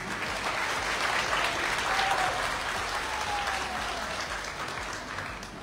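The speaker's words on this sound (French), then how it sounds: "Applaudissez-le." Sustained applause from an audience at an UFDG party general assembly in Conakry, a steady dense wash of clapping held at even loudness throughout with a faint tonal whistle partway through.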